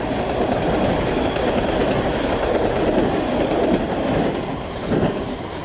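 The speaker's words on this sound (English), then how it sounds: "Oh, there's a train." A loud train rumbles past nearby, its wheels clattering in a continuous roar that swells slightly near the end.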